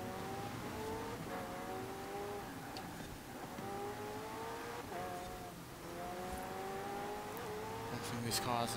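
McLaren Senna engine in the racing game Forza Horizon 4, a moderately loud revving drone climbing through gears with repeated rising pitch sweeps and shifts, under faint talk.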